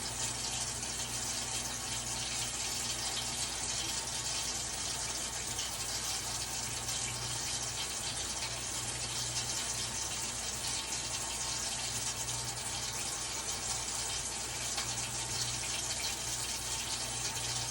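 Water running steadily from a sink tap while hands are rinsed, a constant close hiss and splash that holds through the whole stretch with no talking.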